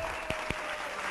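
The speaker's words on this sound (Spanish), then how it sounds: "Un aplauso para ellas, por favor." Studio audience applause on a Spanish-language television show, a brief burst of clapping heard faintly with a couple of sharp claps standing out.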